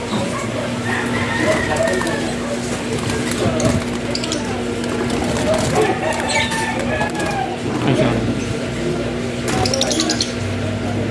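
Several pet birds, including blue and green lovebirds, coo and call intermittently nearby over a steady background hum, with occasional sharper chirps and clinks.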